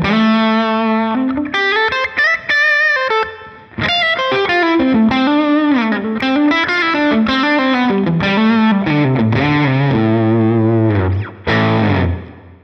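An overdriven electric guitar plays a sustained melodic phrase with distortion and a touch of reverb, bending notes and ringing out loud.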